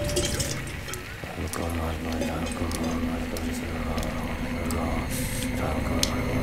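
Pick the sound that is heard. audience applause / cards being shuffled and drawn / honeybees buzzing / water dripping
water dripping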